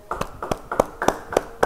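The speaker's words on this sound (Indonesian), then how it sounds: "Yang mau terangkat beri tepuk tangan buat Tuhan" A church congregation at a Bible study claps in unison, six sharp, evenly spaced claps in a brisk rhythm over less than two seconds, with quiet gaps between them.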